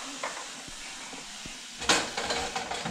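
Apple cider vinegar hits an overheated pan with a sudden loud, steady sizzle and hiss that keeps going. A few faint clinks come before it.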